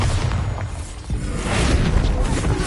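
Bombarda spell blast in Hogwarts Legacy, a deep booming burst with a whooshing, crackling tail, followed by continued rumbling impact noise with no clear speech.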